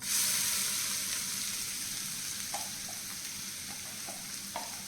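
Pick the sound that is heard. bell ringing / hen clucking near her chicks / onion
onion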